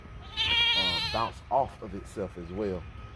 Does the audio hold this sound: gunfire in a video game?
no